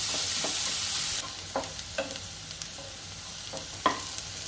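Sliced onions with whole spices such as bay leaf and black cardamom fry in a pan, a steady close sizzle broken by several sharp spatula stirs and scrapes, with no voices.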